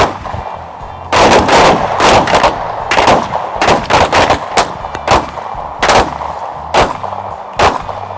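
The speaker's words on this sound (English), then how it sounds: "we're going to shoot 2 rounds" Rifle shots fired on a firing line during a shooting drill: a rapid series of loud, sharp cracks, roughly a dozen overlapping reports from several shooters, spread irregularly across the stretch with no talking.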